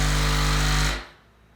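A 12-inch B2 Audio RAVE shallow-mount subwoofer driven by a 10 Hz constant test tone gives off a loud, rumbling, rattling drone that cuts off abruptly into near silence.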